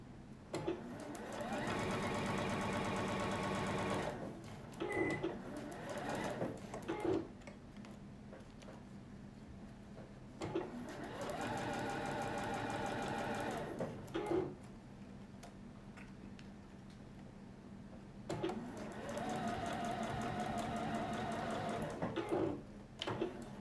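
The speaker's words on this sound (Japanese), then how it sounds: "これはね仮縫いなんですけどしっかり縫っておくといいです" Sewing machine stitching a zipper pocket seam, three long steady runs of rapid mechanical stitching separated by quieter pauses, close and prominent with no talk.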